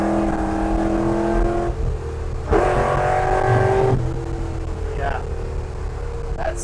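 A 1982 Chevrolet square body truck accelerates in gear with a steady engine drone that climbs in pitch through the shifts. People talk over it from close by.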